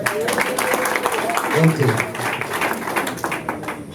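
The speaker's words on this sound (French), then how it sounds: "On applaudit s'il vous plaît." Wedding guests at an official marriage ceremony break into scattered applause and clapping throughout, heard under someone speaking loudly over them.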